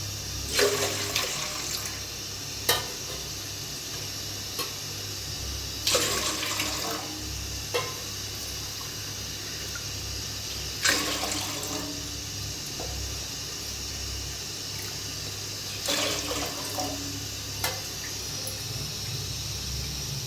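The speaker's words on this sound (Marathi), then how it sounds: "6 वाट्या पाणी घातलेलं आहे" Water is poured into a pot in several separate bursts, each a few seconds of splashing, with a steady low hum underneath.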